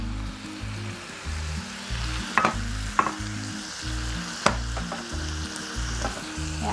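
Rice-stuffed squid pan-fries in a large pan with a steady hissing sizzle and a few sharper crackles and clinks, over a pulsing low thump throughout and no voices.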